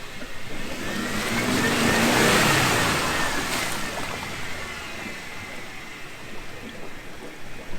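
Off-road vehicle engine revving hard as it climbs over a rock on a camping trip, a steady loud roar that swells and peaks midway, then eases slightly, with gritty crunching underneath and no talk.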